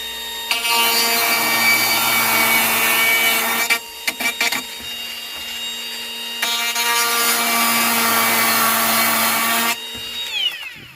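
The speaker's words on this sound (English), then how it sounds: "I got the Dremel tool, carbide bit." A Dremel rotary tool fitted with a carbide bit whines at high speed while cutting, running in two long sustained passes with a brief stuttering gap between them, close and loud.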